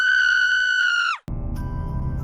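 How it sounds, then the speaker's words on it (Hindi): A woman's long, high, piercing scream for a horror story, held loud and steady before cutting off sharply into a low rumbling, ominous sound effect. "मैं चिल्लाने लगी,"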